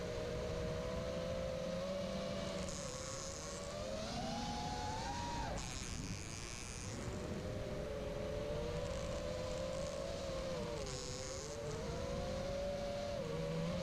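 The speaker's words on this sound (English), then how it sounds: "Sort of sounds like a weed whacker or something." Low-flying remote-controlled aircraft buzzing like a weed whacker, a steady, droning motor whine that rises and falls in pitch as it throttles and passes, heard alone at moderate distance outdoors.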